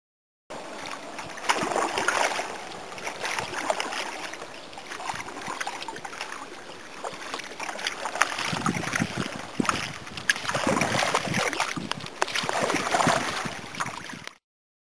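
A kayak or canoe is paddled along a river, giving steady water swishes and splashes mixed with wind noise on the microphone, continuous for over ten seconds.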